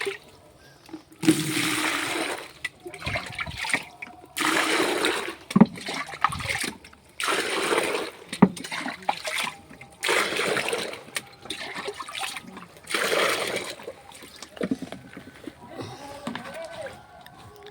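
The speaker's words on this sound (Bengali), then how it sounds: "দেখুন বালতিটাতে একটু জল নিয়ে তারপরে গোবর নেব দেখুন" Water splashes and trickles into a bucket for mixing cow dung, in repeated pouring bursts separated by short pauses, at moderate loudness with occasional voices nearby.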